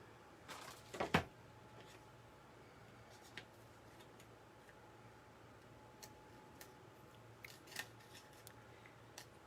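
Scissors trimming the last layer of mini journal pages make faint, quiet snips in a quiet room: a cluster of sharp cuts early on, then a few sparse single clicks and snips spread out later.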